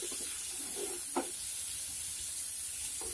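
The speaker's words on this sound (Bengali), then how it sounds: "ডাকনাটা সরিয়ে আবারও একটু নেড়ে দিচ্ছি।" Cauliflower curry with egg frying in a pan and stirred after the lid is lifted, a faint steady sizzle with a few soft scrapes of the spoon, quiet and without talk.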